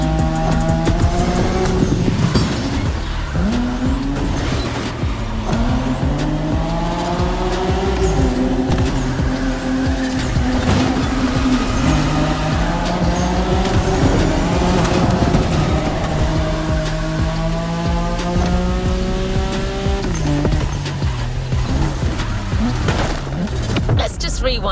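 A car drifts in The Crew Motorfest racing game, with a continuous loud engine that rises and falls through the revs and long stretches of tire squeal. A voice talks over it.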